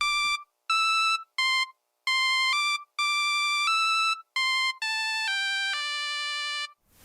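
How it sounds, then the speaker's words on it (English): A Nokia cell phone ringtone plays a synthesized version of Van Halen's Jump, with loud, clean electronic tones in choppy bursts that run into a long sustained final note, heard alone with no talk. "Or at least a Nokia cell phone version of Van Halen's Jump."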